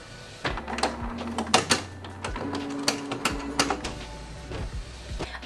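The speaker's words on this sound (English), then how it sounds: "When you switch on your printer, it takes around 1 to 2 minutes for the printer to actually boot up." A Canon Pixma iP8750 inkjet printer powers on and checks its ink cartridges, giving off a close series of clicks, short mechanical whirs and clattering carriage movements at moderate volume, with no one speaking.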